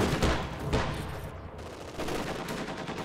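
Dense gunfire from machine guns in the Company of Heroes 2 strategy game, a loud sustained rattle with overlapping battle noise throughout.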